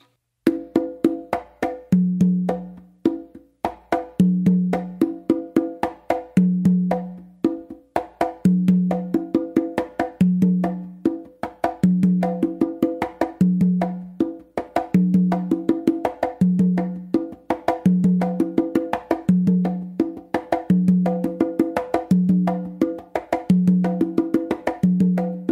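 Conga drums lay down a flowing tumbao groove, a continuous run of crisp, close hand strokes with regularly recurring resonant low open tones keeping a steady, unbroken pulse throughout.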